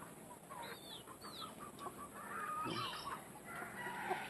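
Sweater 226 gamefowl chicken clucking in a backyard with several short calls and squawks at moderate distance over steady rustling ambience, no talking.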